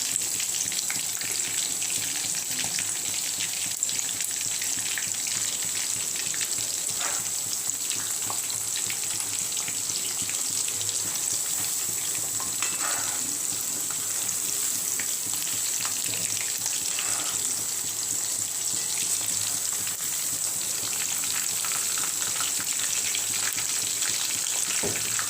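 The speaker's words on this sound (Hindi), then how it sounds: "देखिए फ्रेंड्स, इस तरह हमें सारा चिकन फ्राई कर लेना है।" Chicken wings deep frying in hot oil give a steady, dense crackling sizzle that holds at an even loudness for the whole stretch, with no voices over it.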